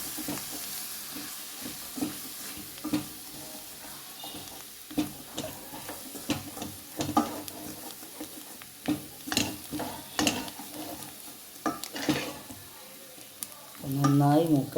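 Kashmiri chilli and ordinary chilli powder frying in a pan for garlic pickle, with a soft steady sizzle, occasional stirring scrapes and clicks, and a louder clatter at the end.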